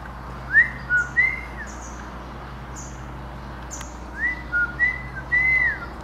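Someone whistles a few short rising notes in two separate attempts with a pause between, fairly close, over faint background hum.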